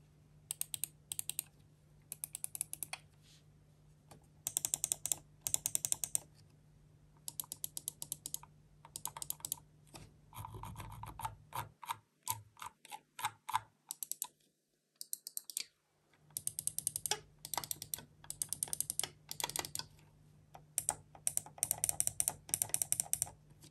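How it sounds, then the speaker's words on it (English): Rapid bursts of crisp button clicks from a HyperX Pulsefire Core RGB gaming mouse, many in quick succession with brief pauses between runs, close and fairly quiet, no talking. "here comes the click sound test"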